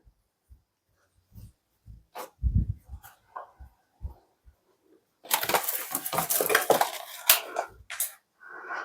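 Metal pie pans clatter and scrape as they are pulled out in a home kitchen while baking pies, a few sparse knocks at first, then a dense, loud run of rattling metal clanks that fades near the end.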